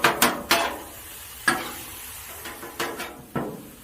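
Hamburger meat broken up with water, ketchup and mustard on a Blackstone griddle, a scraping spatula hitting the hot surface in sharp irregular strikes over a faint sizzle.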